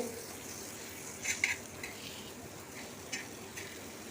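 Mackerel pieces fry in a little oil on an iron tava, a steady close hiss of sizzling with a few light metallic clinks and scrapes of a spatula across the pan.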